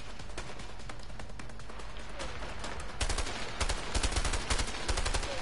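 SMG bursts in the video game A Way Out: steady rapid automatic gunfire throughout, growing louder and punchier in the second half, with dense clusters of sharp shots over a constant background rumble.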